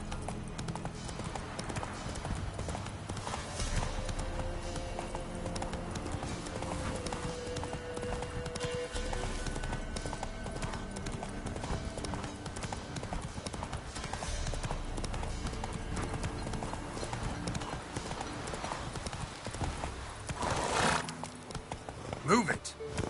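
Horse hooves clip-clop at a steady, rapid pace in The Witcher 3: Wild Hunt, a continuous rhythmic gallop with a brief neigh and occasional talk over the top.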